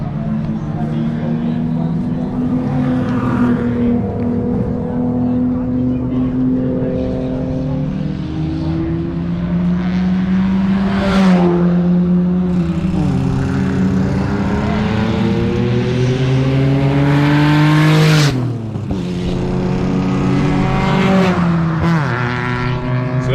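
Race cars battle closely on the Shannonville circuit, engines roaring loud and continuous as they rise and fall through gear changes, with sharp pass-by sweeps near the middle and end while a voice talks over the noise.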